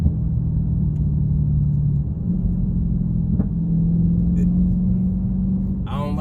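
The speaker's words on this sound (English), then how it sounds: "I don't like how this thing breaking tires like that though." A Dodge Challenger Scat Pack's engine drones in a steady low rumble as the tires break traction, with the pitch stepping up partway through and a brief squeal near the end.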